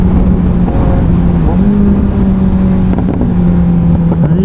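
A Kawasaki Ninja 1000 motorcycle accelerates hard in sports mode, its engine note climbing and shifting through gears, loud and close with wind roar throughout.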